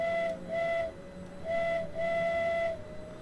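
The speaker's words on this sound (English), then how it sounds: "Then you've got the depot whistle." A depot whistle in the Train Simulator 2015 video game gives a steady tonal, layered toot, sounding in repeated short and long blasts over a constant background hum, clear and fairly loud with no talk.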